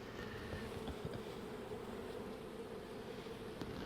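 Honeybees droning steadily at an opened hive that is due for requeening, a dense continuous buzz with no voices.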